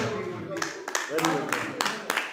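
An audience at a Punjabi poetry gathering (kavi darbar) claps in short scattered bursts, with a few sharp claps standing out over a murmur of room noise and voices.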